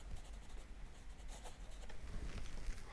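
A pencil scratches over paper as colour names are written by hand, giving a steady, close, soft rasp with small strokes and pauses.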